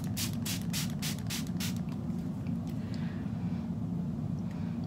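A rapid series of about six short, airy spritzes from a face mist pump spray bottle sprayed over makeup, close by, over a steady low background hum, then quiet hiss.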